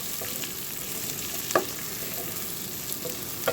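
Chicken sizzles as it browns in a pan, an even frying hiss broken by a few light scrapes and taps from stirring.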